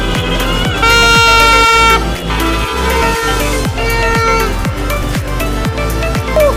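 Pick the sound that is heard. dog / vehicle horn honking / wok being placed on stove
vehicle horn honking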